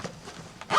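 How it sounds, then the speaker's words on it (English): A zipper on a flat-pack ballot box is pulled closed around the lid at the start of poll, heard as a short, close zip over quiet room tone with a brighter rasp near the end. "pull the zip right round and it will clip into the grey"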